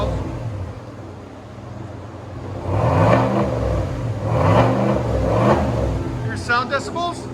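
A 2023 Chevy Silverado LTZ with a 6.2L V8 and Borla S-Type cat-back dual exhaust revs twice in strong rising swells, deep and close, with people talking over and between the pulls.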